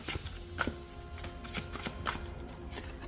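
A deck of oracle cards is shuffled by hand, giving quick, close riffling and flicking snaps in an uneven rhythm.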